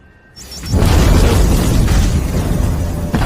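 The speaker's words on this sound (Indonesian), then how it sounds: "ia segera menyelamatkan Saw sebelum bom itu meledak" A sudden deep boom swells into a loud, sustained rumbling roar of a bomb explosion in a film, with a few faint high clicks just before it hits.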